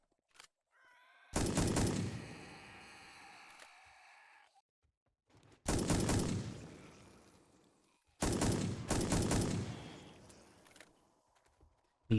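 An automatic rifle fires in the zombie survival game 7 Days To Die, three loud sustained bursts of rapid shots separated by short pauses, each trailing off into echo.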